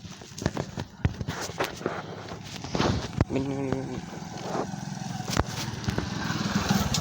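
A motorcycle engine hums and buzzes as it goes by at moderate distance, with scattered clicks and outdoor street noise around it.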